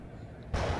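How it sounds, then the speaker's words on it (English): A sudden, loud explosion from a superhero season-finale battle in a city erupts about halfway through, cutting off a quieter low rumble and lingering as a heavy, sustained roar. "It sounded like an explosion."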